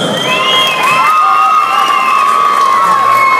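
Wedding guests at a celebration in Slovenia cheering for a singer, a lively crowd roar with sustained whistles and shouts over a steady din.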